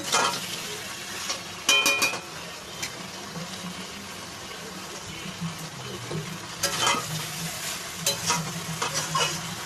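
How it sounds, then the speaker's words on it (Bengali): Chicken legs and wings with small cut potatoes sizzle in a pan while being stirred, a steady fry hiss broken by a few sharp scraping clatters of the spoon against the pan, close up with no talking. "এটাকে আমি অনেকক্ষণ দিয়ে কষাচ্ছি কষাতে কষাতে অর্ধেক সিদ্ধ হয়ে যাবে"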